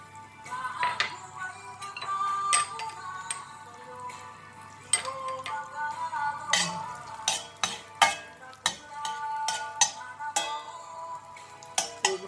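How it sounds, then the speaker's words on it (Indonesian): Garlic sautéing in butter in a pan, with a soft sizzle under repeated stirring clinks and scrapes of a utensil against the pan. "Ibisahin na natin hanggang mag-brown-brown yung garlic."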